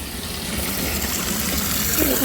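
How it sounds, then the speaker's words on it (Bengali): Water pours steadily from a tap left running, making a continuous near hiss and splash at even loudness. "কে যেন কলটা খুলে রেখে চলে গেছে জল পড়েই যাচ্ছে"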